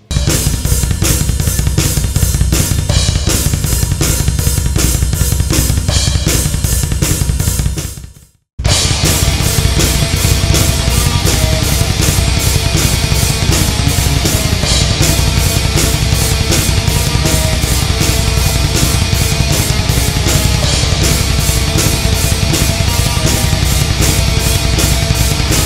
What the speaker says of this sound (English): one bass drum goes between two bass drums